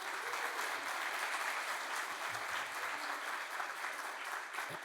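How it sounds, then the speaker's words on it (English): An audience at a book-to-screen talk gives a steady round of applause, dense even clapping from a moderately distant crowd, holding throughout without voices. "Please give them a round of applause."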